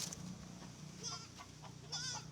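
Faint, distant farm chickens suffering in intense heat call out in a few short, squawky bursts over a quiet background hum.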